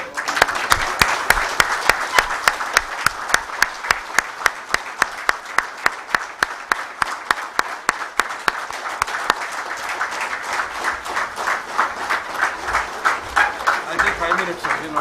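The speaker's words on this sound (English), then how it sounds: "I request all of you to please stand up and give a big round of applause." A large audience applauds and claps steadily at a formal event, dense sustained clapping throughout with rhythmic synchronized claps standing out, while a voice talks briefly over it.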